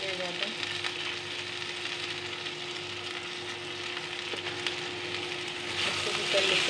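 Potato and pointed gourd bhujiya frying in a pan while being stirred, a steady close sizzle with light scraping that holds evenly throughout and swells slightly near the end.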